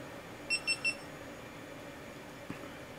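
Three quick, high electronic beeps in a row from a GoPro Hero3 camera starting up, faint against a low background hum, followed by a soft click.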